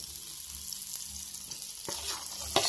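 Garlic sizzling in melted butter in a pot during a beachside lobster cook in Jamaica, a steady close frying hiss with light scraping and clinks near the end.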